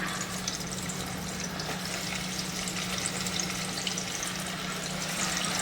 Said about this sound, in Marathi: कडकडीत तेलामध्ये ही वडी तळून घेऊया